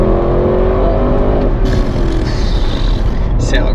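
Loud, close V8 engine of an Audi RS6 Performance 2023, a continuous deep rumbling drone with rising tonal harmonics early on as the engine note climbs, steady and dominant throughout.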